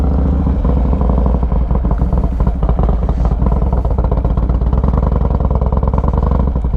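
A Harley-Davidson motorcycle engine idles and runs loud and close, with a steady, heavy low rumble and a shaking mechanical clatter throughout, and no voices.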